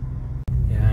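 A 4x4 vehicle travels a rough road near Santa Maria, Laguna, giving a steady low engine rumble with bumpy cabin noise, briefly cut by a short dropout midway before the drone resumes loud and close.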